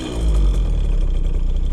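A KTM 50 two-stroke dirt bike engine idles close by with a low, steady burble and light mechanical clatter. The rough note holds even throughout, with no one speaking.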